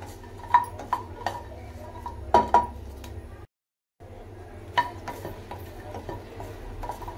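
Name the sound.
dry-roasting green chillies in a pan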